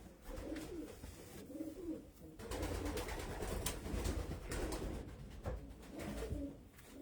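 Racing pigeons of old Van Rijn and Van Loon bloodlines coo in a loft, soft rolling calls repeating over a steady low background rumble, fairly near and continuous.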